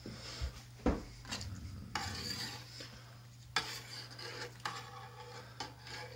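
A spoon scrapes and rubs through a tomato and red wine pasta sauce in a pan, in uneven strokes with a low background hum and a few louder knocks against the pan.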